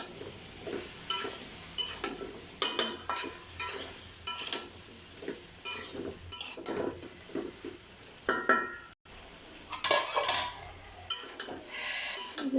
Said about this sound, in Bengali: এবার এই কষানো মশলার মধ্যে আমি আগে থেকে সুন্দরভাবে লাউ এবং আলু কেটে রেখেছিলাম, সেগুলো দিয়ে দিয়ে খুব সুন্দরভাবে নেড়ে চেড়ে মিক্সড করে নেব।